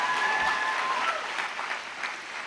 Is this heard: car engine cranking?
no